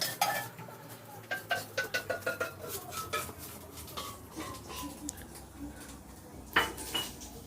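Stir-fry ingredients for a rice bento are mixed around in a pan, giving close, rhythmic metallic scrapes and clinks of utensil on pan, several quick strokes in a row, then a lull and a louder clatter near the end.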